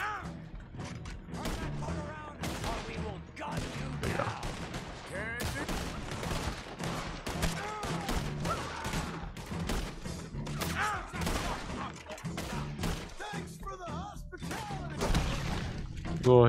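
Gunfire in Red Dead Redemption 2, repeated shots and bursts over a busy game soundscape with music, impacts and mechanical clatter, while someone talks over it.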